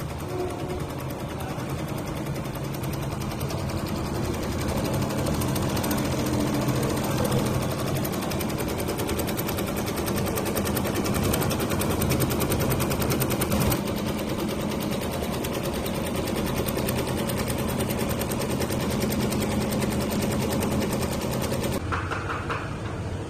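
An automatic embroidery machine stitches appliqué onto a jacket with a loud, continuous rapid needle chatter and motor hum that runs unbroken for over twenty seconds, then changes near the end.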